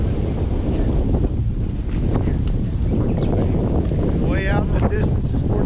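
Breezy wind buffeting the microphone beside the water in Charleston, a loud continuous roar with waves or surf beneath, while a person talks over it.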